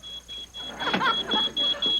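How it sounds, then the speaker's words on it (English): A smoke alarm beeps high and piercing in repeated bursts, with muffled voices and movement beneath it. "That sounds like the smoke alarm."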